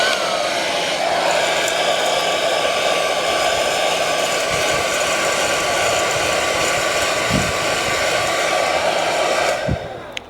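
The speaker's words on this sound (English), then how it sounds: "turn your hairdryer on to cold" A hairdryer on its cold setting blows steadily over a high-sided bowl of cracked cacao beans to winnow away the shells, a constant close whoosh with faint rattles of beans, cutting off at the end.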